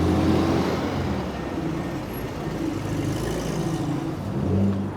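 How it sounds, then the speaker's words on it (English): An old classic car converted to electric power moving along a London street, a steady low road rumble with traffic noise around it, continuous and fairly close, with no talk. "So they take old classic cars and then they convert them into electric cars like"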